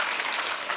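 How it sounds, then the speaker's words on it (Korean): Applause from an audience at a political party members' debate meeting, a dense steady clatter of many hands clapping together, close and filling the room. "사회자께 박수 한번 칩시다 우리"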